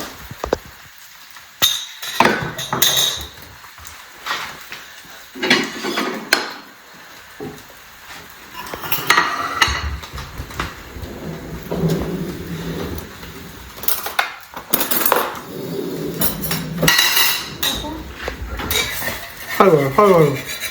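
Plates and dishes are cleared in a household in clustered bursts of ceramic clatter, cutlery clinks and scraping, separated by brief pauses, with occasional faint voices.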